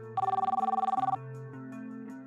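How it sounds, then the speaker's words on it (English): A mobile phone rings nearby, a rapid warbling electronic trill lasting about a second, followed by a lower sustained tone and a brief final blip. "I woke up groggily to the sound of my phone ringing."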